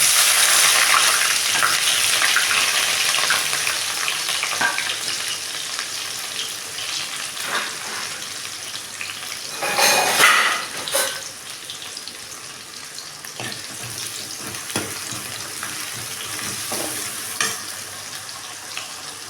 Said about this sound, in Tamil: இப்போது கடுகு வெடிச்சிட்டு வெங்காயம் போட்டுக்கலாம் தாளிக்கிறதுக்கு